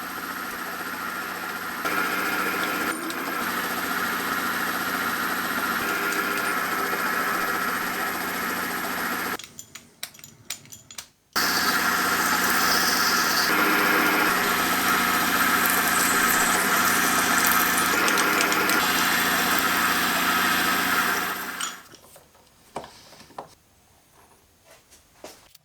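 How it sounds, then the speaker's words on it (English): Milling machine drilling six holes into a middle pulley, a steady loud mechanical whir with a high-pitched whine that runs continuously, stops briefly, starts again and then winds down. "the middle pulley is going to get the 6 holes drilled and then tapped into it"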